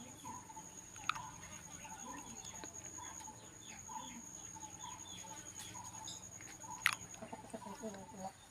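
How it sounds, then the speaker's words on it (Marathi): Small native village chickens and roosters clucking in a farmyard, repeated soft clucks and chirps scattered over a quiet background, with a couple of sharp knocks and a person speaking faintly. "कोंबड्यामध्ये छोटी साईजचे गावठी कोंबडे आहेत, प्युअर."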